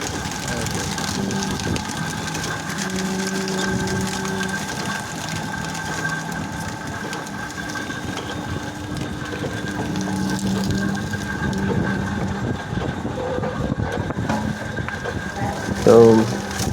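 An engine-driven sugarcane crusher used for traditional jaggery making runs with a steady mechanical grinding and ratcheting drone throughout, with a louder burst near the end.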